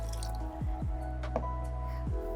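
Water poured into a pot of rice as it is cooked, giving a close, steady liquid rush with a few bubbling drip-like splashes and no talk.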